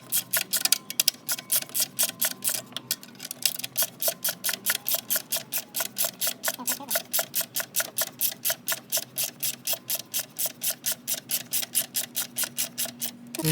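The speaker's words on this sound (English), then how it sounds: "we're going to loosen this bolt. It's a number 12 millimeter socket" Rapid, steady ratcheting clicks from a 12 mm socket wrench loosening an alternator bolt on a 2008-2013 Toyota Corolla 1.8 L, a fast even train of close, crisp ticks running throughout with no talk.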